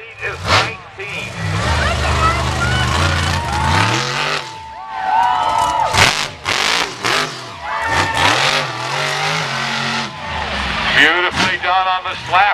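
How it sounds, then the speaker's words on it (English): Instigator stadium truck in a freestyle run, engine revving hard through a slap wheelie, loud and close, with surges and drops in throttle under a loud announcer and crowd noise. "Beautifully done on the slap wheelie from Lionel Eastler"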